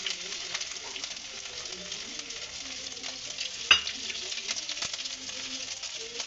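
Ginger sizzling in a pan in a home kitchen, a continuous close frying hiss broken by scattered clicks and scrapes of a stirring utensil, with one sharper knock partway through.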